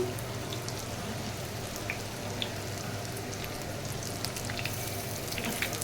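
A snack fries in a frying pan with a continuous soft sizzle and scattered sharp crackles, like light rain on a surface, steady and moderately quiet.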